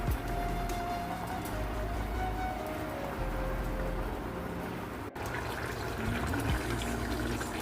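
Kofta curry broth simmers with a dense, continuous bubbling hiss at moderate loudness, with a brief break partway through and no clear talking.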